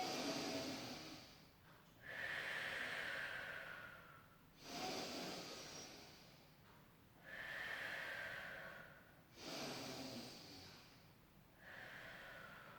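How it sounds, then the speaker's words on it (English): A person breathes slowly and deeply during a Pilates exercise for shoulder rehabilitation: about five close, audible inhale-exhale cycles, each breath long and airy. "Take a breath in."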